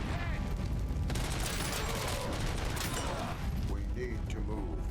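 Dense bursts of gunfire from the video game Robocop: Rogue City rattle almost without pause for about five seconds, loud and close, with heavy impacts and mechanical clatter mixed in.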